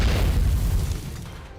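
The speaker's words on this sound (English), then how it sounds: "The guard post takes direct hit. Dust flies everywhere amongst the ensuing explosion." Artillery shell slamming into a guard post in the video game Nikke, a loud deep boom with rumbling debris that stays heavy for a second before slowly fading.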